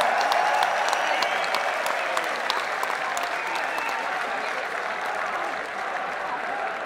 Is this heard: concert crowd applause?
yes